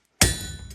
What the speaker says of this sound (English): but I'm fullering with a cross peen hammer